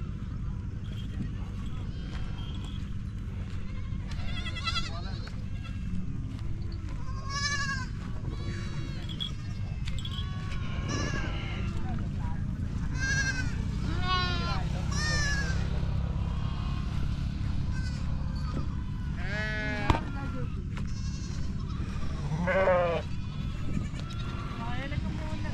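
A flock of sheep bleats repeatedly, with many overlapping calls near and far, at a Balumama palkhi encampment in Shelu village near Pune during Diwali, over steady low crowd noise and murmuring voices.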